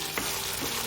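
Chicken pieces stir-fry in hot oil in a pan for a Chinese chicken and asparagus dish, a steady close sizzle with a brief scrape of stirring.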